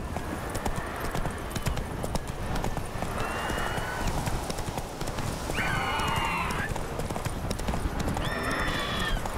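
Horse hooves clip-clop steadily in The Witcher 3 video game, a continuous run of hoof beats under game ambience, with brief whinnies and other tonal game sounds rising now and then.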